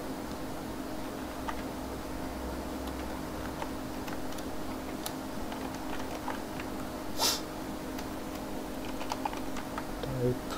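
Faint, scattered computer keyboard keystrokes, light irregular clicks over a steady background hum during an HTML coding lesson, with no talking.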